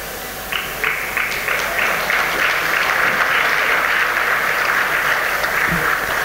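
Guests at the launch of an IPCA souvenir break into impromptu applause. Scattered claps start after a brief pause and quickly swell into sustained, fairly close clapping from a small gathered audience.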